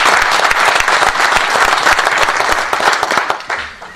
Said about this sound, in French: nous tenons vraiment à les applaudir